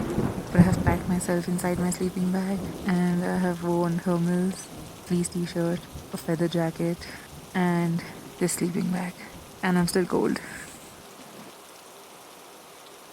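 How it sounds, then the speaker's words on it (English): Thunder rumbles and heavy rain falls outside a tent during a basic mountaineering course, as a broad, steady wash beneath a nearby person talking almost throughout. "I don't know if you guys can hear the thundering and lightning outside"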